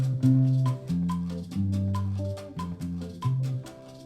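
Guitar picking out the low bass line of an Afro-Cuban tumbao alone, a run of clear plucked notes with syncopated rhythm and no other instruments.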